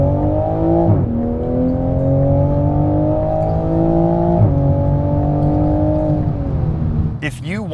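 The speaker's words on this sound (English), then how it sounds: "Engine note time." A 2020 Toyota Supra's engine revs loud and close, climbing through rising pitch in two long sweeps with brief drops between, ending in a quick burst of higher whine.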